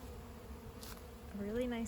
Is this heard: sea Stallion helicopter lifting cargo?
no